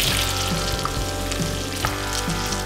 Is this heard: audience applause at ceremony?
no